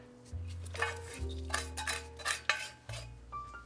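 Stuffing with sausage and kale is mixed in a bowl for Thanksgiving, giving a run of close clinks and scrapes of a utensil against the bowl in uneven bursts over a low steady hum.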